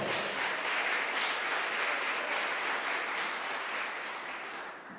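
A congregation applauds after a call to clap for the Lord during a church talk, a dense steady wash of many hands clapping at once that holds strong and then fades slightly toward the end.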